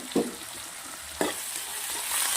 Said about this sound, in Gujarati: ધાણા નાખ્યા પછી એક મિનિટ આપણે આને શેકી લઈશું